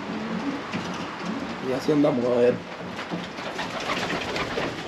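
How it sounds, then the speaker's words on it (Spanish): Pigeons coo softly in a racing-pigeon loft, a brief burst of low throaty cooing amid steady background noise, with someone speaking nearby. "Pues le puse esos paraderos ahí a las palomas"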